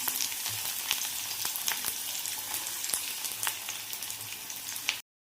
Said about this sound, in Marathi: आता त्याच्यामध्ये मी कांदा टाकून घेते